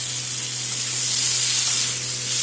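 Onion and tomato fry in oil in a pan with a steady, loud, close sizzle and hiss, holding even throughout with a low hum beneath.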